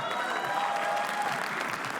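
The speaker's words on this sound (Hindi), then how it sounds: "तालियां" Applause from a comedy roast audience greets the next act, a dense steady wash of clapping with crowd noise filling the room throughout.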